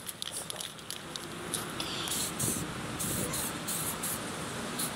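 An aerosol can sprays primer across a boat fuel tank, a near, broad hiss that sputters in short bursts at first and then settles into a longer steady spray.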